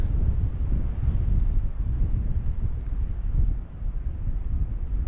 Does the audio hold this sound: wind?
yes